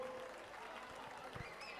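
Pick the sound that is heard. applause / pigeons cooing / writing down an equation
applause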